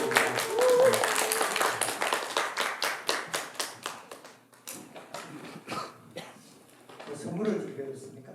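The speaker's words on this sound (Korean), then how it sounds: "박수 부탁드립니다." A cinema talk audience at a film festival in Tongyeong applauds to welcome a guest film critic, a burst of brisk clapping that thins into scattered claps and fades as voices take over.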